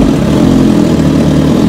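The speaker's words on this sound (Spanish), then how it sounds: "Ahorita la vamos a hacer que suene. Escúchalo bien nada más el ruido." Loud, close motorcycle engine running with a dense, rough low roar held steady for a couple of seconds.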